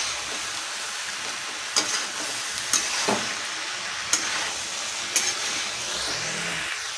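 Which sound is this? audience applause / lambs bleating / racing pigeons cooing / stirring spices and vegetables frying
stirring spices and vegetables frying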